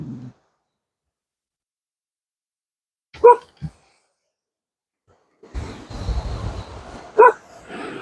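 A dog barks indoors: two sharp barks sound close and loud after a quiet stretch, then another loud bark rises over background noise.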